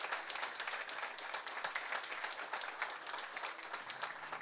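Audience applause at the inauguration of a children's care home, a steady wash of many hands clapping at moderate distance, continuous with no voices over it.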